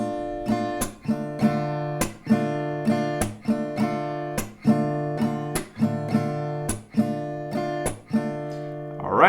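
Steady acoustic guitar strumming, one round per chord, with a driving rhythm of sharp downstrokes and percussive slap accents repeating evenly, close and alone with no talk.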